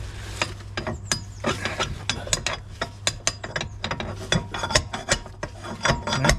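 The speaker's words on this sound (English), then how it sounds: "Right, we'll get the spanner on it now." A spanner ratchet clicks steadily while loosening the fuel tank shield fasteners under a Range Rover L405, a close, rapid series of sharp clicks and scraping rasps over a low steady hum, with no talking.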